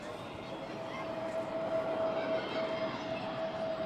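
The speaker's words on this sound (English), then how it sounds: "Unmistakable sound of a Neo." An Airbus neo airliner at Manchester Airport makes a steady engine roar with a whining tone running through it. It is heard from outside at moderate distance and stays constant for a few seconds.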